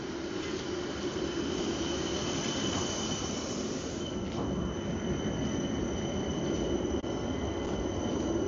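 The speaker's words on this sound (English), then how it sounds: "Tram going by the cathedral." A Helsinki city tram rolls past the cathedral, a steady loud rumble of wheels on rails with a high metallic squeal running throughout, heard up close outdoors with no talking.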